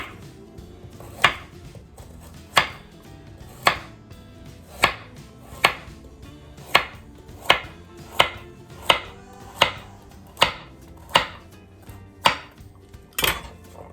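A knife slicing carrots into quarter-inch rounds on a cutting board, about fifteen sharp, distinct chops at an irregular but steady pace, close and clear with quiet between strikes.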